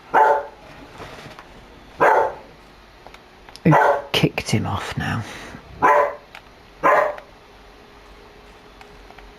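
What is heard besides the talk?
dog barking in Farm Sim 25 video game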